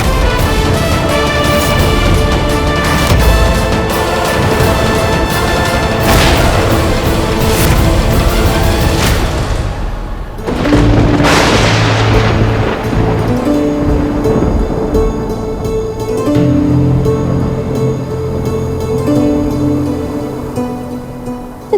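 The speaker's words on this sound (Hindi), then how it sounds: "लगता है जैसे कोई बहुत बड़ा तूफान आने वाला है।" Loud, continuous storm rumble with rain-like wash and a deep roll of thunder, sustained throughout with a brief dip midway and swelling drama-style music tones layered over it, before a big storm.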